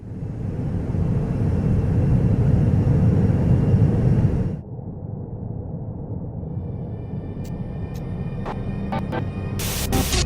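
A loud broadband roar like an airplane engine, in a stop-motion LEGO crash test, runs for several seconds, then cuts off abruptly, leaving a quieter hum with faint clicks and tones.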